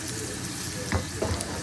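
Tempering with mustard seeds, chana dal, urad dal and asafoetida sizzles in hot oil, a steady crackling hiss with a few louder pops and stirs, no talk.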